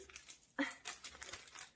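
A parcel of second-hand books being opened with scissors, its packaging crinkling and rustling in a series of close, soft bursts that begin with a sharper crackle.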